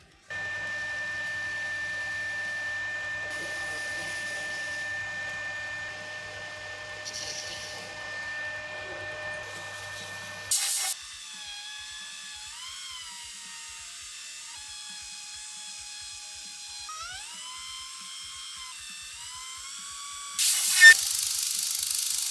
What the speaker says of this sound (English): Now we'll chamfer it, and that will be the power bar ready to assemble.